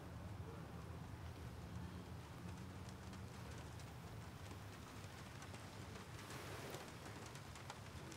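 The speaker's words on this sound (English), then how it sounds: "Sounds like it's raining." Steady rain falls in Flint, Michigan, a dense even hiss with a low rumble beneath it, continuous and fairly close throughout, with no clear voices over it.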